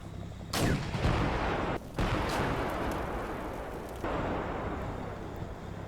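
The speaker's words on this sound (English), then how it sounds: "After a warning shot in the general direction of the enemy" A tank fires a warning shot in the combat game CMSF 2: a sudden loud boom with a long rumbling roar, then a second sharp blast and lingering low battlefield rumble.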